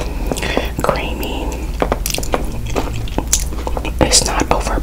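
Crunchy deep-fried mac and cheese balls being chewed up close, with crisp bites and wet munching repeating in an irregular rhythm under soft whispery sounds.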